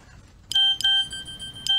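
A mobile phone text message notification sounds as sharp, bright electronic beeps, three short tonal chirps in a quick irregular sequence, close and clear over quiet background.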